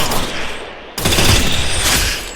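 Rapid gunfire from the battle-royale video game Free Fire during a lone wolf match, a dense burst of shots that thins briefly and then surges again, loud and close throughout.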